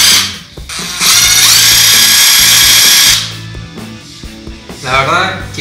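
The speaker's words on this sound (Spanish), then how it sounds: "La llave de impacto es para usarla con tubos medios." A new electric impact wrench for medium sockets runs in one loud, steady burst of about two seconds, with shorter mechanical whirs and clicks before and after it.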